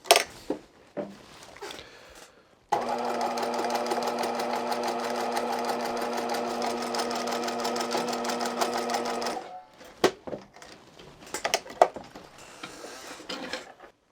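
A Bernina 1008 sewing machine stitches in one steady, fast, mechanical run lasting about seven seconds, close and clear, framed by handling clicks and clatter before and after.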